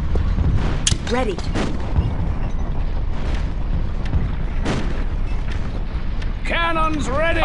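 Cannon artillery fire in the strategy video game Empire Earth 2, sharp booming blasts scattered through a busy battle soundscape, with voiced unit acknowledgements heard over the noise.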